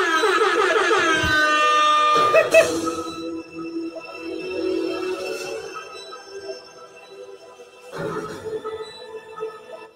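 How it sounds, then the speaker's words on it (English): An air horn sound effect played over a live stream: a loud, buzzy horn blast whose pitch slides downward, followed by shorter, quieter bursts, with no voices over it. "Joe, you get a special air horn."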